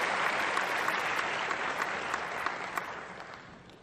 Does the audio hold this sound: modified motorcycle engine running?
no